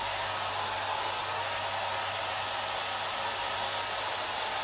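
A hair dryer on its cool setting blows steadily at close range over chalk paste on a wreath design, a constant loud rushing hiss with a low motor hum and no talk.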